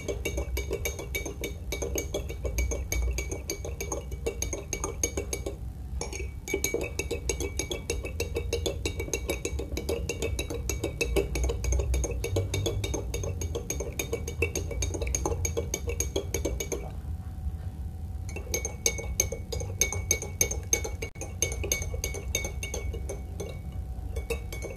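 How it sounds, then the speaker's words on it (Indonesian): A spoon stirs sugar into water in a glass, steady clinks and scraping running continuously for the whole stretch, close and fairly loud, with no talking over it. "Kita aduk ya, Bun, sampai gulanya larut."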